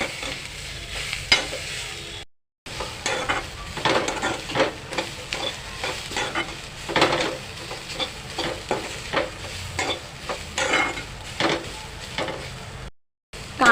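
Onion is roasted in a pan for a Malvani onion-coconut masala, a steady close sizzle with repeated scraping and stirring strokes throughout, two brief dropouts, and no talking.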